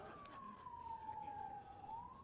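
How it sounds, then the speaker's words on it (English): A faint, distant ambulance siren wails in one long tone that dips and then rises again, over a low background hum. "Ambulance."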